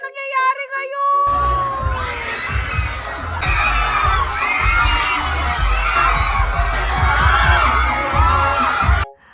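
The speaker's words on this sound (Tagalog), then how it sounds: "Mapapawaw ka talaga sa mga hiyawan nila" A crowd at a live performance bursts into loud, sustained screaming and cheering right after a brief musical tone, the shrill voices filling the space almost without pause until an abrupt cut.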